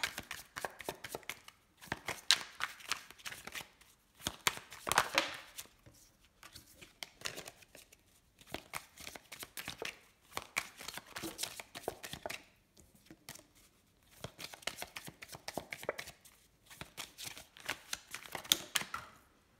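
Tarot cards are shuffled quickly by hand, a dense run of rapid papery riffles and flicks in repeated bursts, close and fairly quiet.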